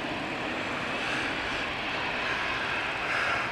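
EasyJet airliner taking off at Manchester Airport, a steady broadband engine roar that holds level and loud throughout, swelling slightly near the end with no voices.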